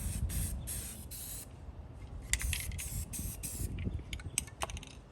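A can of primer sprays the cage of an 88-year-old rusted Robbins and Meyers Type 1204 industrial fan. Repeated short hissing bursts sound close but fairly quiet, with small clanks and rubbing between passes.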